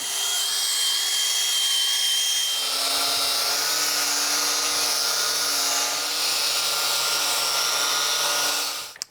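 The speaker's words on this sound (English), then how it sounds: "I want to be able to wire wheel that whole area." A power wire wheel grinds against the fitting area of a Massey Ferguson hydraulic cylinder, producing a loud, continuous high-pitched whir and scratchy abrasion whose pitch shifts slightly as it bears down, then spins down abruptly at the end.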